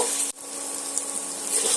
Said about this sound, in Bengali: আলুটা আমি এর মধ্যে দিয়ে দিলাম আলুটা দিয়ে আবারও আমি লো টু মিডিয়াম আঁচে দিয়ে সমস্ত মশলার সঙ্গে আলুটা এইভাবে ভেজে ভেজে নেব